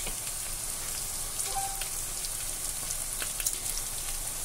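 A fish head fries in a pan with potato and onion, giving a steady close sizzle, a rain-like patter of tiny pops and crackles with occasional sharper spits.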